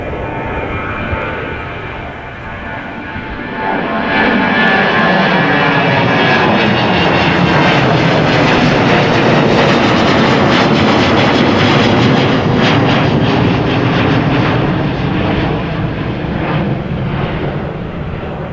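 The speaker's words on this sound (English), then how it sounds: "a Transavia 737-800 going to Naples, Napoli, flight 6413, a 23-year-old" Transavia Boeing 737-800 jet at windy Amsterdam Schiphol Airport, a loud sustained engine roar that swells in as the aircraft passes close and holds steady, with no voices.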